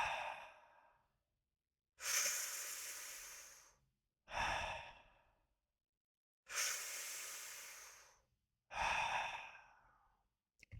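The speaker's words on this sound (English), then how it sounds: "let's go over the circular breathing technique right now" Slow circular breathing exercise: deep, drawn-out breaths, each one a long hissing rush of air that fades out, repeated about five times with quiet gaps between, close and alone.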